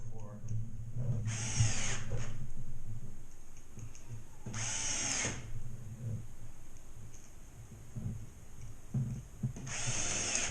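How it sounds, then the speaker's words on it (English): Power drill driving screws into ceiling studs during a drywall ceiling patch after a plumbing leak, with three loud bursts of whirring spaced several seconds apart and quieter handling noise between them. "I'm going to add some screws."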